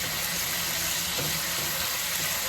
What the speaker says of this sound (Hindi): लहसुन को हल्का सा फ्राई कर लें, तो थोड़ा सा कलर चेंज कर लें।